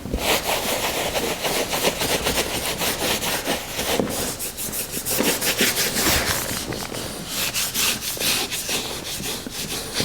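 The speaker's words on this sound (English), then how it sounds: "Rub away the glue," Repeated rubbing and scraping strokes over a glue-filled groove during room renovation, a steady close rasping rhythm of quick back-and-forth passes with no talking.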